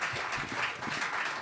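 A studio audience claps steadily at a French-language hypnosis special on television, a brief, even wash of applause with no break.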